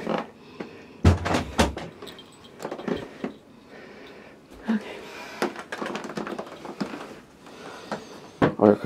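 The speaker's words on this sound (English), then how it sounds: "Close the door." Door of a 1920s man-powered elevator being closed, heard as a series of loud clattering knocks and slams with scraping in between, spread over several seconds and ending in a final thud.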